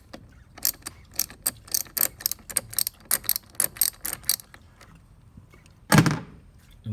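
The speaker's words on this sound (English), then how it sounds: "once you unscrew the terminal, you take it out, push it to the side" Ratchet wrench loosening a battery terminal nut on a 2013 VW Passat: a run of about fifteen quick, sharp clicks, close and crisp, then a louder clunk near the end.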